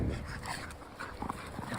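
Several dogs pant and faintly whimper in a short burst, close by and fairly quiet, with no talk over them.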